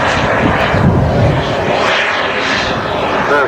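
An unlimited-class aerobatic model aircraft roars overhead at an air show, a loud, steady engine drone that swells and fades slightly as it flies past, with no voices.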